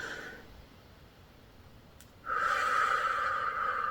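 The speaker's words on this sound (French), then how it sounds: "Donc vraiment un inspire," A deep, slow inhale during a cardiac coherence breathing exercise starts midway and continues as a strong, close, sustained airy rush after a quiet stretch of faint breath.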